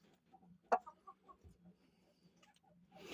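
Hens in a coop cluck in short, scattered bursts at feeding time, fairly faint and close, with a sharp knock near the start and a rustle of feed at the end.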